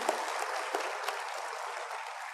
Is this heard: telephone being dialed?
no